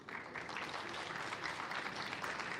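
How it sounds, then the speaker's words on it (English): Audience applause at a diabetes awareness and fundraising event in Adelaide, a steady, dense wash of clapping that stays even throughout without talk over it. "So I think we should clap for the Adelaide team."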